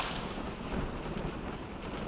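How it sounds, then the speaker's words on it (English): Thunderstorm sound effect for a dramatic sea-storm story scene: a steady, dense wash of rain and rolling thunder rumble at constant loudness, with no voices. "the storm continued to get worse."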